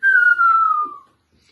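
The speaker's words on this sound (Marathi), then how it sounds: "आणि हवा खेचून वाजवायची शिट्टी." A whistle made with the mouth by drawing air inward starts high and glides slowly downward for about a second before stopping. The tone is close and clear, with no voices.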